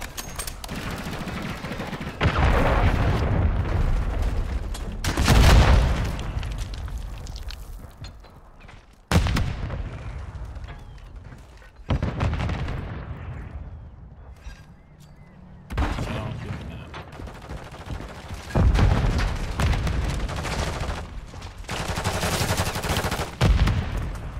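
A slow-firing sniper rifle in Call of Duty MW3 lets off loud, sharp gunshots in a series of separated bursts, each followed by echoing rumble, with faint game noise between shots.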